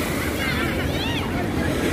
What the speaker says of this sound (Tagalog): Maka-high tide na, kaya naalon.